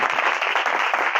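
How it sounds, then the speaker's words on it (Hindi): A church congregation claps enthusiastically during a Hindi-speaking worship service, a brief burst of thick, steady applause heard up close. "जोरदार तालियां बजाएं यीशु के लिए"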